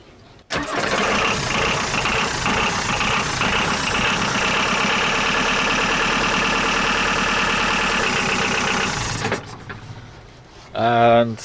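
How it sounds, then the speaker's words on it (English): A 50-year-old marine diesel engine cranks and catches, then runs with a loud, steady mechanical clatter for several seconds before it cuts out, followed by a short voice nearby. "And we start the engine."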